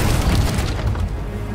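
A blunderbomb exploding in the pirate game Sea of Thieves during a ship battle, a deep, loud, rumbling boom that fills the short moment and slowly fades.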